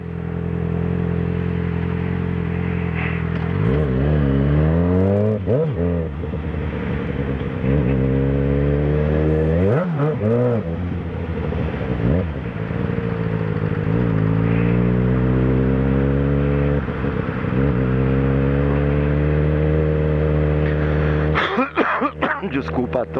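Motorcycle engines rev up and down repeatedly in chaotic, gridlocked traffic, with a Honda CB1000 among them, rising and falling pitch sweeps, close and loud, with coughing and talk in between.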